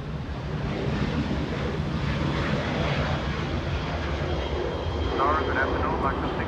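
A Spirit Airlines airliner arriving at Los Angeles International Airport gives off a steady, moderately distant engine roar with wind noise, swelling slightly near the end, while quiet voices murmur in the background.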